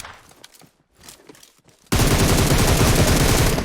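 Gunfire in PUBG Mobile: after a quiet stretch of faint movement, a loud, dense burst of rapid shots erupts and keeps going to the end, close and dominant.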